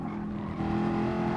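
A steady, low-revving race car engine in the video game Gran Turismo Sport hums at an even pitch in a high gear, close and loud with no pauses.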